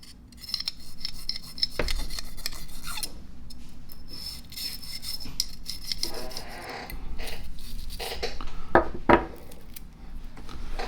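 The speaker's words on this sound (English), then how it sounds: "it needs a little bit of scrubbing, and I don't want to harm the surface of the metal, and a brass brush is perfect for that" A brass brush scrubs the metal of a disassembled Raven P-25 pistol with solvent, giving close, raspy strokes in uneven bursts with short pauses and a few small metallic clinks.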